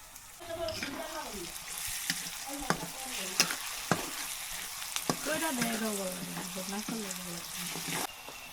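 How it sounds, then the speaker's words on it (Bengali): Onions fry in oil until crisp with a continuous close sizzle and several sharp clinks of a utensil against the pan, while people talk over the cooking. "মশমশা পেঁয়াজ ভেজে নেওয়া হলো।"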